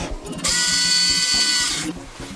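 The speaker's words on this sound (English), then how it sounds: "I got all the holes drilled and prepped for the back head" A small power drill bores holes in the brass body of an HO Kawai 2-6-0 model locomotive being converted to Sn3, a steady high-pitched whine lasting about a second and a half between quieter low tapping.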